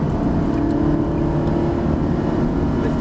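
Ferrari 360 engine droning loud and steady from inside the car on the Brands Hatch circuit, a dense constant roar with little change in pitch over the few seconds.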